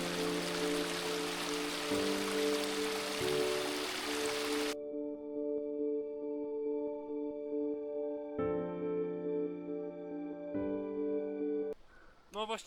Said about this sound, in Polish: tutaj płynie strumyczek